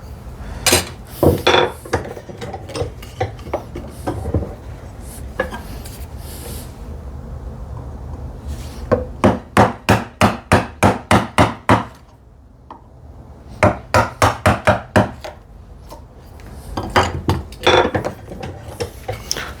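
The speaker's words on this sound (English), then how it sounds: "I'll go with the smaller, thinner, narrower chisel on this side." Narrow chisel struck repeatedly into wood while chopping a dovetail for a hand-built TV unit, bursts of sharp rhythmic mallet-on-chisel knocks separated by short pauses, close and loud with no talking.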